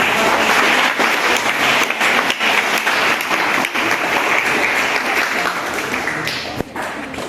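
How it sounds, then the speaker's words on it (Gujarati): A school quiz audience bursts into loud, sustained applause after a correct answer. The clapping is dense and continuous for several seconds, then thins slightly toward the end with a thump. No speech. "ખૂબ સરસ, તાળી જોરદાર"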